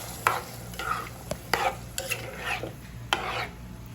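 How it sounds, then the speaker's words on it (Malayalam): A spoon stirring buttermilk into pineapple pulissery in a pot, with repeated close scraping strokes and soft clinks against the metal in an irregular rhythm, no voices. "എന്നിട്ട് കൈവിടാതെ നന്നായിട്ട് ഇളക്കി കൊടുക്കാം"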